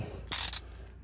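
A torque wrench with an extension is turned on a truck, giving a short, faint mechanical burst of ratcheting about a third of a second long, then quiet.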